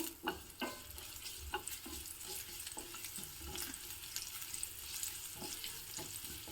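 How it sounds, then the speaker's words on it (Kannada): Steady crackling sizzle of curry leaves frying in hot tempering oil with asafoetida, with scattered pops and small stirring clicks throughout, close and moderately loud. "ಒಗ್ಗರಣೆ ಆಗ್ತಾ ಇದೆ ಇದಕ್ಕಿವಾಗ ಕರಿಬೇವಿನ ಸೊಪ್ಪನ್ನು ಹಾಕಿದ್ದೀನಿ"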